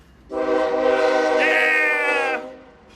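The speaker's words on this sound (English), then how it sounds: "We're right next to the trains, and they honk at us sometimes." A train horn blares in one long, loud chord lasting about two seconds, rising in pitch midway, as a train passes close by a vehicle workshop.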